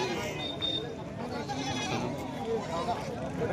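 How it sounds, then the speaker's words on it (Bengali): Goats and sheep at the crowded Taltal livestock market in Purulia, a few faint bleats rising from a steady hum of crowd chatter and background noise. "তালতলের হাটে আমাদের ছাগল দেখছে, ভেড়া, ছাগল"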